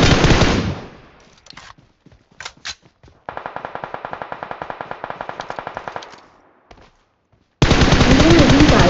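Gunfire in the mobile battle royale game BGMI: loud bursts bracket a rapid, evenly spaced automatic volley, with scattered single shots in between.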